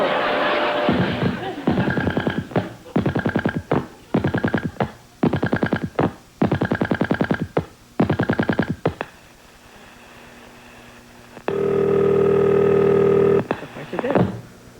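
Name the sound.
telephone dialing and tone signal on TV game show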